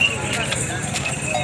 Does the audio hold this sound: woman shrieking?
no